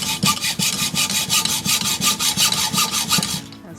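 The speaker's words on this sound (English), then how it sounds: "It'll probably take about a half hour at hacksawing." A hacksaw cuts through metal salvaged from an old sewing machine in steady, even back-and-forth strokes, each stroke a close, loud rasp in a regular rhythm, ending with a brief taper.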